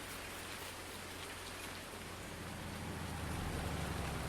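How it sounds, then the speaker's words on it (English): Steady rain falls in Farming Simulator 19, a dense continuous hiss of raindrops on surfaces, loud and even throughout with a low rumbling undertone and no voices. "as it keeps raining."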